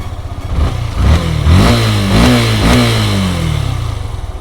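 A motorcycle engine with its engine trouble light on runs unevenly, the revs climbing and sagging in a wavering drone, loud and close, with no one talking over it.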